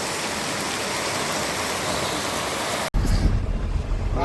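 Rain falls steadily in a dense, even hiss for about three seconds, then cuts abruptly to a lower, rumbling wash that sounds like rain heard from a different spot.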